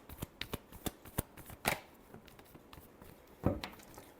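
Tarot cards shuffled by hand, a series of quiet crisp riffling flicks in a loose rhythm with a couple of louder bursts, close and alone.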